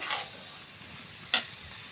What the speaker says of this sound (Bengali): এখানে আমরা আলুটাকে ভাজিয়ে নিই, ঠিক এই মাংসের সঙ্গেই আমরা কষিয়ে নেব।